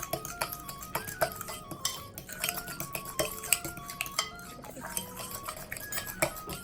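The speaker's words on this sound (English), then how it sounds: "Mix it carefully just because it's a solid and a liquid going together. So mix that up really, really well." A spoon clinks and scrapes steadily against a bowl as spinach ricotta pie filling is stirred, close and busy with bright metallic chinks, no talk.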